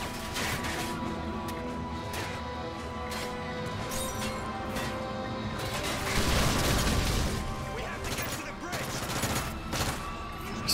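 Gunfire from a weapon in Call of Duty: Modern Warfare 3, a dense, continuous fusillade of shots and crashes that swells loudest midway, mixed with game effects and occasional speech.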